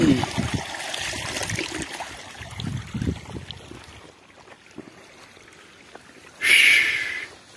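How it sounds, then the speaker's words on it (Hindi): Irrigation water trickling and flowing through a lentil field on a large Indian farm, a low steady wash with faint splashy detail, heard outdoors at moderate level with a louder burst near the end. "इधर देख सकते हो पानी चल रहा है मसूर में"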